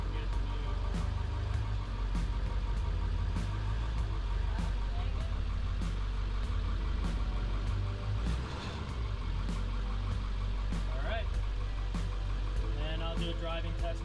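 An International Harvester school bus being driven on a road test, its engine giving a steady low rumble throughout with brief rattles and a slight dip midway, under occasional talk.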